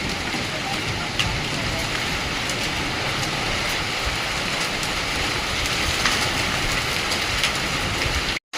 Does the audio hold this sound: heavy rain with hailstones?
yes